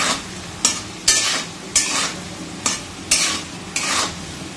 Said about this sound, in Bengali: এই দেখো আলুটা ভালো করে লাল লাল করে ভাজা হয়ে গেছে